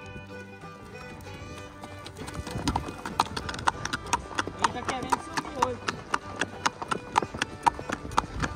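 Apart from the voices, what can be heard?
gaited horse hooves clip-clopping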